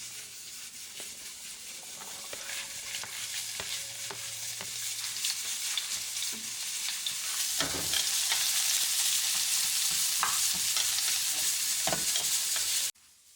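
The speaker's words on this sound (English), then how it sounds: "While the onion is frying," Onions frying in a pan, steady crackling sizzle that grows louder over the clip, with occasional stirring scrapes and a clatter near the end.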